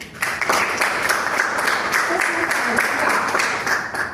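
Dense, steady applause from a crowd at a Toastmasters meeting, continuous clapping throughout with a few louder individual claps standing out.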